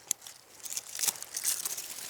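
Sweet potato vines being cut back by hand in a raised backyard garden bed: soft crinkling rustles of leaves and stems with a few brief snips and crunches, close by, fairly quiet, no talking.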